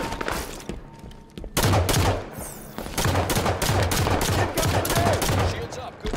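Gunfire in the video game Halo 5: Guardians multiplayer: rapid bursts of automatic shots in repeated volleys, loud and close, with brief gaps between strings of fire.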